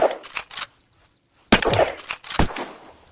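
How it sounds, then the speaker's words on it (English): Sniper rifle fire in the survival video game Unturned comes as several sharp, punchy cracks in two bursts separated by a brief near-silent pause. "sniper rifle"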